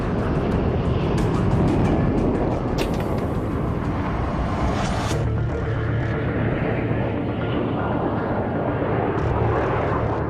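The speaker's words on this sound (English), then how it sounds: "Withers starts refueling with the Victors" Inside a Vulcan bomber during in-flight refueling from a Victor tanker, jet engines roar with a loud, continuous broadband rumble, with brief higher hissing surges over the steady drone and no talk.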